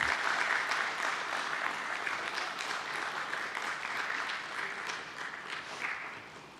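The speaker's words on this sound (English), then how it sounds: "Keep the claps going, ladies and gentlemen." A crowd applauds steadily at a stock exchange listing ceremony for Getalong Enterprise Ltd, a continuous bright clatter of many hands that slowly fades in loudness, heard from a moderate distance.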